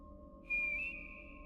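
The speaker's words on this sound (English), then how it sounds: "Who's whistling?" A single clear whistled tone rises briefly and then holds as a thin steady note, faint and alone over a low background hum, heard in a Kingdom Hearts II pirate level.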